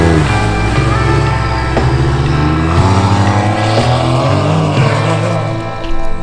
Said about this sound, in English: I love the sound of that engine. It just sounds so badass.